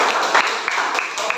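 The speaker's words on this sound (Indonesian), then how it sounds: "Ya, tepuk tangan." Brief applause from a group in a classroom setting, a quick burst of many hands clapping close by, lasting just over a second.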